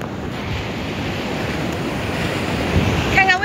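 Wind and sea surf roll steadily on a Hainan beach, a loud, close, continuous roar that swells slightly toward the end, where a brief voice cuts in.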